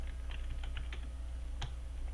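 Several quick keystrokes on a computer keyboard, close and crisp, with one sharper tap near the end, set over a steady low electrical hum at a desk while working in Dreamweaver CS6.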